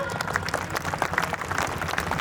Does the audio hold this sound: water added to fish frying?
no